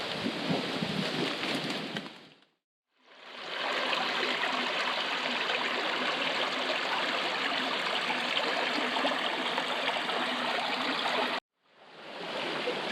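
Steady broadband rushing of a river spilling over a rock dam, with fallen trees around it, loud and continuous, broken by two brief cut-outs.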